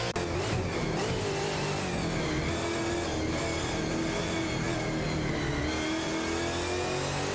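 Race car engines howl continuously in an AI racing video game with a crowded field, including a Ford Falcon FG duelling a Nissan Altima, the steady revving and shifting tones overlapping at full volume throughout.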